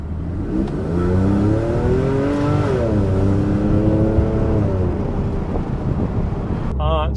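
A Porsche 911 drives on a test ride after flex disc work, its engine note rising and falling through gears under steady road and wind rush, heard from inside the car with a brief voice near the end.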